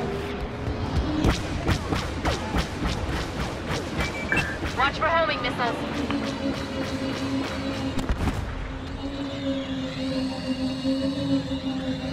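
In a Star Wars Battlefront match on Bespin, a Tibanna gas generator blows up amid sharp blasts and rapid weapon fire, followed by a heavy roar that trails into a humming whine, with voices speaking over the din.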